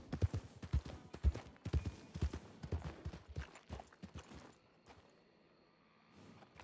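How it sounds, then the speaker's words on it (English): Horse hooves clip-clop in the Red Dead game world, a run of close, fairly quiet hoofbeats that fade out partway, leaving a soft high tone and faint background sound. "I swore I heard horses."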